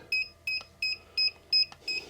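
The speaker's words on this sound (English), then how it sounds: "Stop beeping." Six short electronic beeps from a wood moisture meter repeat at a steady pace, each a clean high tone, close by and alone without talk.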